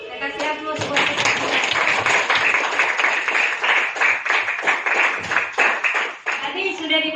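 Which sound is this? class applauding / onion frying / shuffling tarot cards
class applauding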